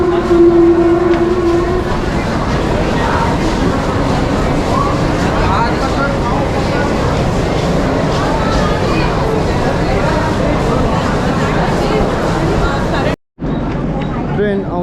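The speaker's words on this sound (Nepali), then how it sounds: "ट्रेन आउँदैछ" A Mumbai local train rumbles loudly into a busy platform, a long continuous roar under crowd babble and nearby talk, cutting out briefly near the end.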